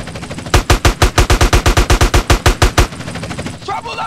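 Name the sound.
gunfire in the video game GTA San Andreas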